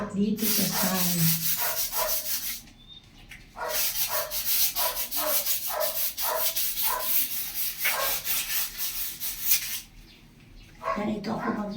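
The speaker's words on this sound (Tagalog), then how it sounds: "Liha ulit dito sa side." Sandpaper being rubbed over a surface in a bathroom, a series of loud, rhythmic scratchy strokes that pause briefly and then resume, close and harsh, with short bursts of voice in between.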